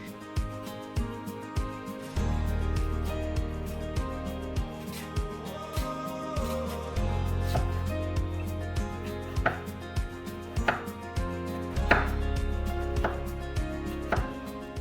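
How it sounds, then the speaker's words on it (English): A knife chops peeled potato and carrot into cubes on a board. Crisp, regular thuds repeat in steady bursts at close range with short pauses between runs, and nobody speaks. "I'm going to peel them and to chop them into like cubes or small pieces"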